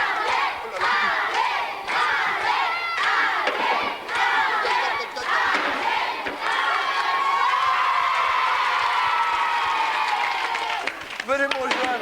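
Children in a French television studio show audience shout and cheer on contestants in a game, a loud, continuous crowd roar of high voices with whoops and screams sustained throughout.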